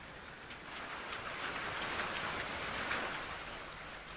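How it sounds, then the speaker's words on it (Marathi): Hail and rain pouring down at Bhimashankar, a dense, steady hiss of falling drops and pellets, soft and distant, with no voices. "संध्याकाळच्या सुमारास भीमाशंकरला गारपीट सुरू झाली आणि भाविकांची तारांबळच उडाली"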